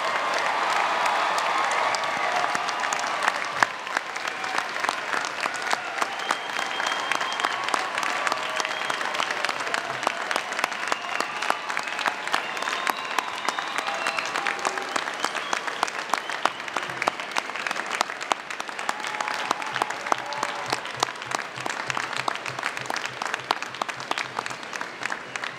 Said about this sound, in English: I think now would be a very appropriate time for you to join me in a round of applause for the class of